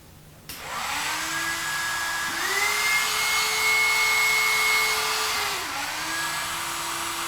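A handheld dryer blowing air to dry a pottery piece on a clamped wheel, a steady close whooshing roar whose pitch shifts upward midway and then drops back down, running alone without talk.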